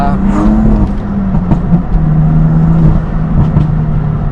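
A BMW M4 sports car engine drones steadily while drifting on a forest track, its tone rising and falling with the revs, loud and continuous throughout.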